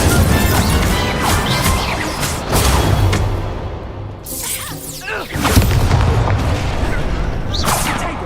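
Fire spell blasts cast during a wizard duel in the video game Hogwarts Legacy, a run of loud crashing bursts and whooshes layered over dense game noise, with a brief lull in the middle before another heavy blast.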